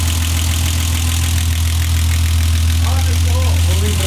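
A BMW E30 engine idles just after its first start following an engine install, a loud, even, deep hum, with voices coming in near the end.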